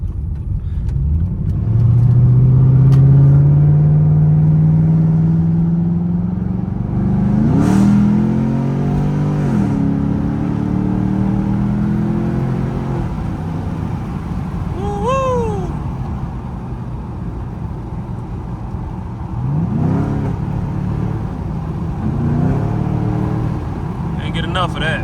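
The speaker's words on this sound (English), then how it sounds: "just listen to these pipes though on these country roads" A Camaro SS cruises on country roads, its exhaust pipes giving a deep, loud, rising rumble that swells and eases with the throttle, while people talk over it inside the car.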